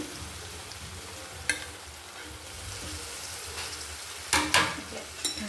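Peas, carrots and cabbage fry in a pan for pasta, a soft steady sizzle broken by a few sharp scraping knocks of a spoon stirring the vegetables near the end.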